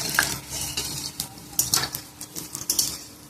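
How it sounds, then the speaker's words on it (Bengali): Potatoes frying in mustard oil in a wok, a light sizzle under repeated clinks and scrapes of a metal utensil stirring against the pan in an uneven rhythm. "এবার আলুটা লাল লাল করে ভেজে তুলব"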